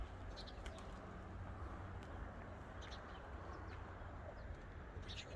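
Soft, low cooing of pigeons in a loft fills a quiet space, with scattered faint chirps and rustles over a steady background hum.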